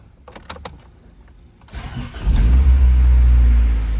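A car engine cranks with a LOKITHOR jump box connected: a few clicks and a pause, then a brief crank that catches and settles into a loud, steady idle.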